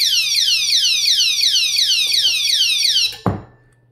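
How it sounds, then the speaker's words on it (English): The anti-theft alarm of a Maike KK10S 5000W electric scooter whoops loudly in a rapid repeating falling-pitch pattern, then cuts off abruptly with a short beep and a click. "And I also have the alarm"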